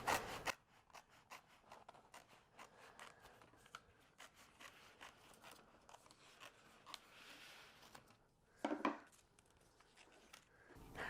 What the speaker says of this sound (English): Using scissors, I'm just going to cut out each of these individual elements.